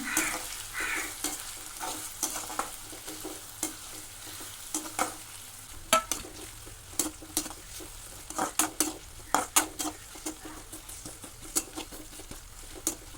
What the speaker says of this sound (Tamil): ஒரு சைஸ் பெரிய வெங்காயத்தை எடுத்து நல்லா ஆயிலில் டீப் ஃப்ரை பண்ணிக்கிறேன்